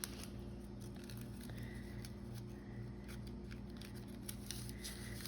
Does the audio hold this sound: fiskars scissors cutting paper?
yes